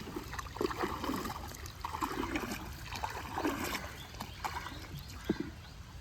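A kayak paddle dips and pulls through water in soft, rhythmic splashes and trickles, quiet and fairly close, repeating every second or so.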